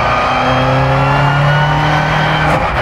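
A naturally aspirated Vauxhall red top engine in a classic rear-wheel-drive restomod revs hard and loud, its sustained rising note holding before dropping off sharply near the end.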